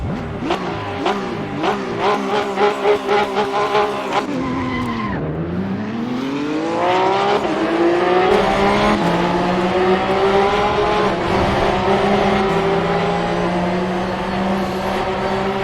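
Porsche 911 GT3 Cup 2017 race car in Assetto Corsa at Laguna Seca, its engine revving hard through rapid upshifts, dipping on a downshift with tire squeal around corners, then holding a loud sustained roar.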